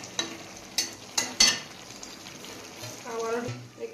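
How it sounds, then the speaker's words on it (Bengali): Potato and tomato curry stirred in a pan, a few sharp spoon scrapes and knocks against the metal, then a soft sizzle, close and moderately quiet, with no talk. "আবার একটু নাড়িয়ে দেবো, ঢেকে দেবো।"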